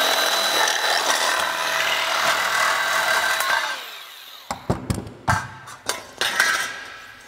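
A double cut shear cuts corrugated metal roofing, giving a sustained loud grinding, buzzing cut that gives way to a run of sharp metallic clanks and snaps as the tool hits the rib.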